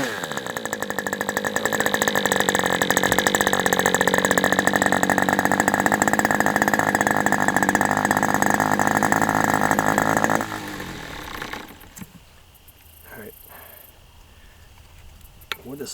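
Aviastar 46 ABC glow-plug model airplane engine on a test stand, running loud and steady with a constant buzzing drone for about ten seconds, then cutting off abruptly, leaving quiet handling noises.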